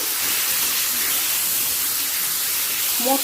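Chopped tomato hitting hot oil with black cumin in a pan for a Bengali fish curry, a loud, steady broadband sizzle and hiss that holds evenly throughout, with a faint voice starting at the very end.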